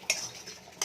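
A spoon briefly scrapes and clinks against a pan while stirring masala for an omelette egg curry, with two short metallic clicks over a faint, quiet sizzle.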